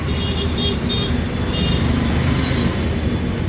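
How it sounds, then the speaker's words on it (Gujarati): Road traffic at Naroda Memco in Ahmedabad, heard from aboard a GSRTC deluxe bus: a steady low rumble of engines and tyres with faint higher hiss and distant tones, no voices. "નરોડા મેમકોનું ટ્રાફિક તમે જોઈ શકો છો મિત્રો."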